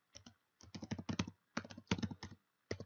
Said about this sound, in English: So let's just go ahead and type that in.